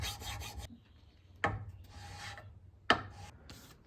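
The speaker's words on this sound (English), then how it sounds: "I'm starting out with a file again, just so I can make sure it's all actually flat" A hand file rasps across a forged steel chisel in a few strokes: a scraping pass, then pauses broken by sharp metallic clicks as the file is set down and drawn again, close and alone.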